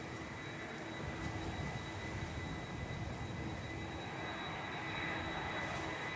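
Aer Lingus UK Airbus A330-300 jet airliner, registration G-EIDY, taking off from Manchester Airport for Orlando, heard as a steady, distant roar of engines that holds level throughout with no voices.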